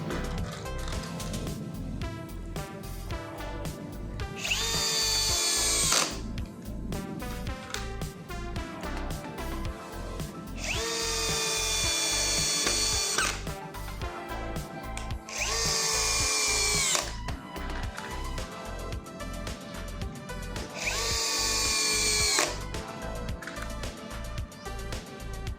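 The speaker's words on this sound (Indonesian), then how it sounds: "Di sini kita akan menyekrup di media kayu jati Belanda" A Nagawa NCB1021 cordless brushless drill drives screws into teak wood, with loud repeated whirring runs that ratchet under load and rise into high-pitched screeches as each screw seats, the cycle repeating about four times.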